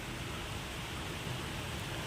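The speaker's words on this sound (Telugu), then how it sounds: "వర్షం ఆల్రెడీ వచ్చిపోయింది, మళ్ళీ స్టార్ట్ అయింది." Faint, steady hiss of rain falling, an even wash of noise with no voices.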